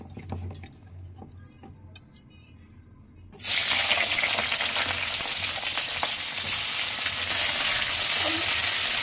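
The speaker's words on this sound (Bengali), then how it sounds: "এদিকে অয়েল গরম হওয়ার পর আমি আগে ভেজে নেব বেগুন।" Eggplant frying in hot oil for shukto: a quiet stretch with faint kitchen sounds, then a loud, dense, steady sizzle bursts in and holds close for the rest.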